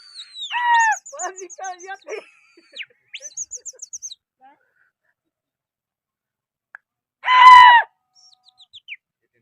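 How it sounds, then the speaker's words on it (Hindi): Outdoors at a pigeon-flying contest, birds call in short chirping bursts with gaps, and a louder call rings out near the end. A person's shouting voice may be mixed in. "कबूतर"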